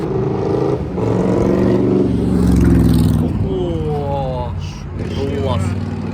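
An old GAZ Chaika car drives past close by, its engine rumble swelling and then fading while people talk over it.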